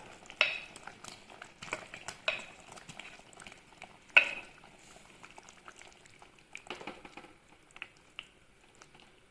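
A red chili fish curry gravy simmers in a pot, popping and bubbling quietly in irregular bursts, with a few soft utensil clinks and no talking.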